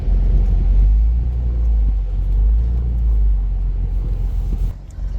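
A vehicle engine rumbles low and steady while backing up a camper trailer in snowy winter conditions, a close, loud drone that eases slightly near the end.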